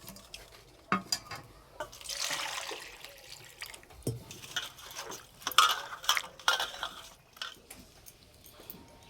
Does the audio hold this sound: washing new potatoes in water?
yes